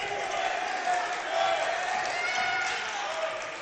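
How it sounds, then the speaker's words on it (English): Noisy crowd at a high school boys basketball quarterfinal, a steady murmur of cheering and shouting voices at moderate distance filling the gym. "Not a big crowd, but a little bit of a noisy crowd right now."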